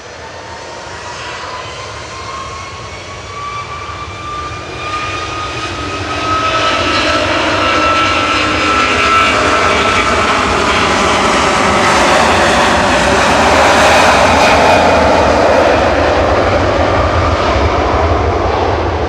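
Jet airliner departing Manchester Airport for Palma, a loud, steady engine roar that swells midway with rising whining tones and sweeping pitch shifts as it passes close by.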